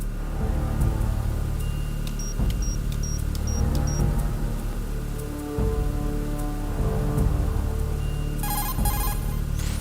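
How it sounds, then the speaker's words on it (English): Steady rain pours continuously in Metal Gear Solid, mixed with low rumbling, occasional thuds and faint electronic beeps; no one speaks. "The rain effects, the helicopters, the sound effects are really great."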